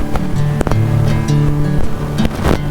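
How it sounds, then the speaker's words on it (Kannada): Strong, fast-flowing water rushing loudly and continuously nearby, with turbulent roaring surges and irregular splashing bursts, no voices. "ಏನ್ ನೀರು ಹರಿತಾ ಇದೆ ಗುರು, ಭಯಂಕರ ನೀರು ಹರಿತಾ ಇದೆ ಮಾತ್ರ."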